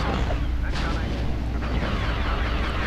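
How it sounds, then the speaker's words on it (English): Thermal detonator blasts in Star Wars Battlefront rumble continuously with deep booming bursts and crackling debris, loud and dense amid ongoing battle noise. "I'm just going to spam a bunch of thermal detonators at them."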